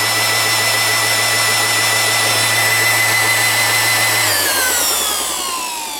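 A TackLife PRS02A electric rotary sander hums steadily and loudly up close on its slow setting, then winds down as the motor slows and its pitch drops.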